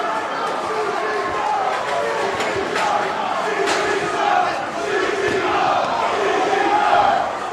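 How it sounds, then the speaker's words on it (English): Wrestling crowd roaring and shouting at a CZW anniversary show as Drake Younger enters the ring, a dense, loud, continuous swell of voices with scattered yells that builds toward the end. "the crowd is fucking electric"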